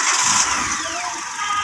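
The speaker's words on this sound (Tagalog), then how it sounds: "Ayan, titingnan po natin kung hard starting pa rin siya. Start." A Kia Rio engine with a previous hard-starting problem, its fuel tank lowered for repair, cranks and catches, settling into a steady idle close by with no talk over it.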